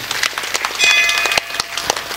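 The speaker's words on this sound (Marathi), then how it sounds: "त्या सर्व भक्तांच्या करता एकदा जोरदार टाळ्या वाजवा" Applause from devotees at a Datta Jayanti kirtan gathering, a steady wash of many hands clapping at moderate loudness throughout, with a few sharper claps standing out.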